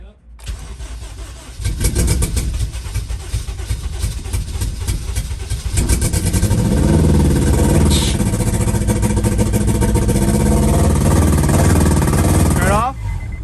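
A turbocharged Acura RSX Type-S cranks and catches, settling into a rough, loud idle, then rises to a higher, steadier rumble for several seconds before it cuts off abruptly near the end.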